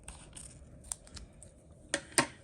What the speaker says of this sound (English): And then I'm going to cut off all the regular paper as well.